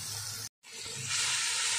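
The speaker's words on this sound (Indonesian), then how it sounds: "Ketumbar bubuk yang udah aku halusin. Kita tumis sampai wangi" Ground coriander sautéing in a pan: a steady close sizzle, briefly cut off, then returning louder and brighter, with no voices.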